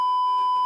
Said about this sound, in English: Love a beep